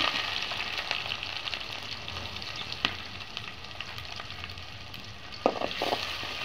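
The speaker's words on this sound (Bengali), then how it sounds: "পেঁয়াজটা আমি একটু ভালো করে ভেজে নেব।" Chopped onions sizzling in hot oil on a clay wood-fired stove, a steady close hiss with a few sharp clicks of stirring near the end.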